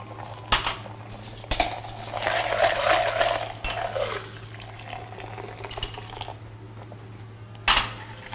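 Ice clinks and rattles in a glass being chilled for a cocktail competition, with a few sharp close taps and a busier stretch of swirling clatter, then quieter handling and one more knock near the end.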